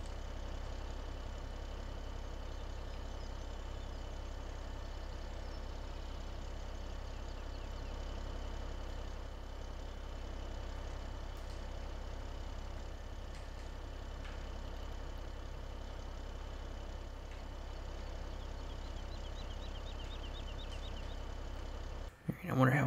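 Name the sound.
idling tractor engine in Farming Simulator 17 video game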